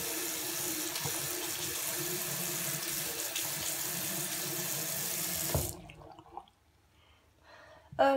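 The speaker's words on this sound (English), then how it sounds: "I need to wash my hands." A bathroom sink tap runs steadily for hand washing, a close, continuous water rush that cuts off abruptly, leaving near quiet with a few faint handling sounds.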